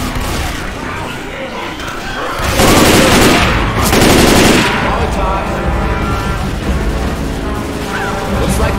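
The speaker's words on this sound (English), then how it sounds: "Stop shooting each other." Rapid gunfire rattles in Left 4 Dead 2's The Passing campaign, with a dense, loud burst of shots in the middle over continuous game noise, while voices are heard in the background.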